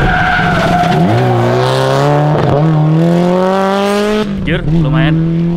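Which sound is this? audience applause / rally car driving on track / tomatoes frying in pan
rally car driving on track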